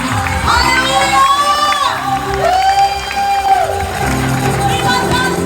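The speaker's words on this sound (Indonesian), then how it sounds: "Sekali lagi berikan tepuk tangan, sorak-sorai" A church congregation at a youth camp worship service cheers and shouts continuously, loud and dense, with high voices whooping over the crowd noise.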